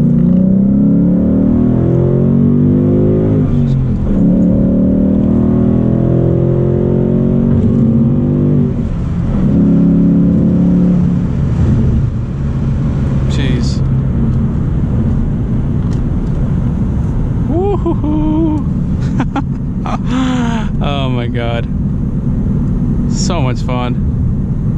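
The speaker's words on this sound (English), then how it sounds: "that was the first pull in the Mustang" A manual 2019 Ford Mustang GT V8 accelerating hard in second gear, its engine note climbing steadily through a loud pull, then easing off as a driver talks, with brief tire or wind noise late on.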